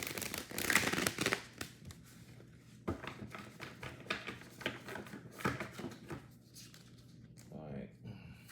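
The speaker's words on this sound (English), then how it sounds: "I'll give it one more shuffle." A tarot card deck being shuffled by hand, with quick soft riffles and taps in bursts, fairly faint and close, separated by short pauses.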